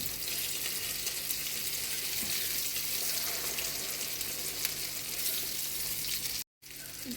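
Lentil kebab patties sizzling in hot oil in a pan as they are flipped, a steady, close hiss and crackle that continues without a break apart from a brief silent gap near the end.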